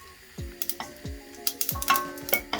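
Whole spices pop and sizzle in hot oil for a Keralan fish curry, sharp crackling bursts arriving in quick irregular clusters over a steady close frying hiss, with a few lower thuds mixed in.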